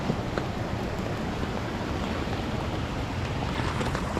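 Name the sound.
river flowing under roots and moss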